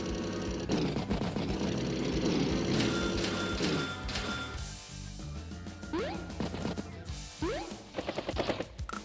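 Tank combat in the turn-based strategy game Advance Wars, as a medium tank strikes a regular tank: dense crashing blasts and rattling rapid fire, then scattered impacts with rising whistle-like tones, loud and continuous with no talk.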